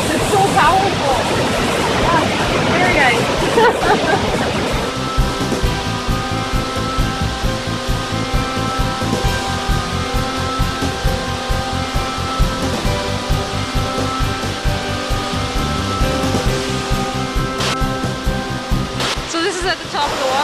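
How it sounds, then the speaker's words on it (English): Powerful waterfall at Cliff Gilker Park on BC's Sunshine Coast, a loud, continuous roar of rushing water heard from the top of the falls, with people talking over it. "So this is at the top of the waterfall."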